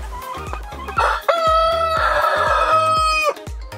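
A Barred Rock rooster crows loudly in long sustained calls while Barred Rock and other hens cluck in quick bursts throughout, close by and busy like a coop.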